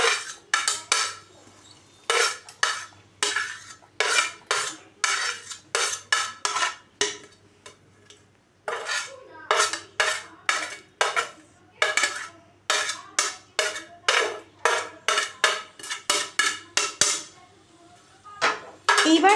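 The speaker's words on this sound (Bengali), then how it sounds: "এবারে এখানে যে সবজিগুলো আমি কেটে রেখেছি, এইগুলো আমি সবকটা মিশিয়ে দিচ্ছি" Chopped vegetables are mixed into batter in a bowl, giving a rhythmic run of short wet slaps and clinks from a spoon against the bowl, repeated steadily, with a brief pause midway.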